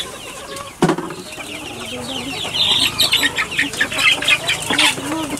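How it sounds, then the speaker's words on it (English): A native hen and her chicks cluck and cheep in a pen on a small farm in the Philippines, soft murmuring clucks mixing with high chick peeps and one sharp knock near the start. "Here's that little native hen."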